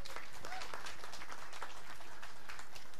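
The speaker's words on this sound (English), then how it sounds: "Applause for that." Spectators at a women's 10m air rifle standing SH1 final in Chateauroux in 2018 give a soft, fairly distant round of applause, a quiet patter of many hands that stays low and even throughout.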